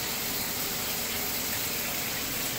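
Water gushes steadily through a valve and up into a shower head, a constant dense hiss that stays loud and even throughout with no pauses or voices.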